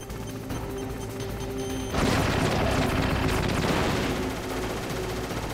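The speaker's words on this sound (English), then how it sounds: "He's gonna shoot a missile at me." A missile explodes in the stealth video game Metal Gear Solid: a sudden loud, broad blast about two seconds in, rumbling and crackling for a couple of seconds before easing back to a steady game background.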